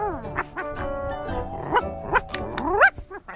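Tiffo, a cartoon dog in Andy Pandy, barks at a strange new white tent: a few yapping barks with whining, rising yelps over a soft music bed, fairly close and moderately loud.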